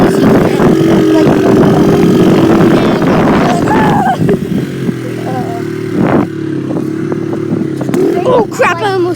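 Dirt bike accelerating hard in third gear, heard from the passenger's position as a loud, close, continuous engine drone with rising and falling revs and wind rush, and voices breaking in over it.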